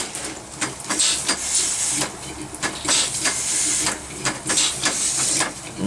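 A miniature SAR class 15F steam locomotive hisses with steam, giving repeated rhythmic bursts of broadband hiss in a steady chuffing pattern, close and fairly loud with no talking.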